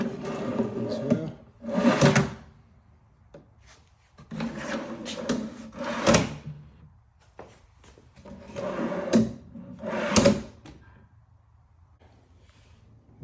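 The hinged wooden door of a DIY work table is swung open and shut four times, each time a woody creak and thump at close range, with quiet gaps between.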